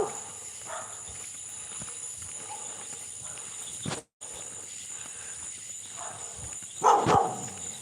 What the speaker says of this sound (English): Another dog, sorry.